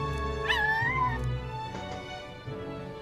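A dog in the video game Metaphor: ReFantazio gives a brief rising whine and yelp, with a few soft yips after it, over a sustained music drone.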